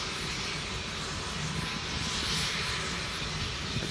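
Sikorsky S-92 helicopter starting up with rotors turning, a loud, dense turbine roar and whine holding steady and close, with no talk over it.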